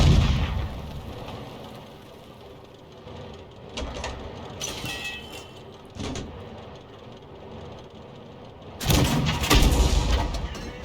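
Sexton I self-propelled gun firing in World of Tanks, heavy booming shots spaced through the scene, with the loudest blast near the end over a rumbling engine background.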